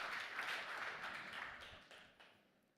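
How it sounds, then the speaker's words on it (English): Applause from a conference audience welcoming a guest onto the stage at a proof-of-work summit in Frankfurt: dense, moderately loud clapping that gradually thins and fades over a few seconds, with no talk over it. "You can applaud him, even if it's awkward."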